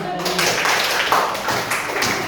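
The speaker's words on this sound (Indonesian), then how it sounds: "berikan dulu tepuk tangan" An audience claps together in a room for a few seconds, dense and fairly loud, with a voice briefly heard under the applause.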